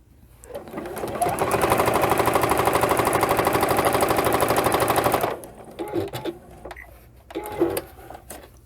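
A sewing machine stitches the sides of a cloth face mask in a steady, fast mechanical whir lasting about five seconds, then stops, leaving scattered handling clicks and rustles.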